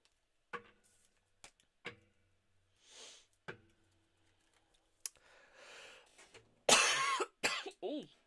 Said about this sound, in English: Ooh, I had a goose cough then.